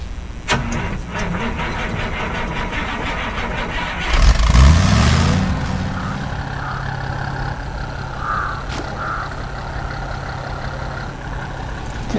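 A Chevrolet Silverado truck engine in the SnowRunner game idles steadily, with a brief louder surge of revving midway before settling back to a constant low hum.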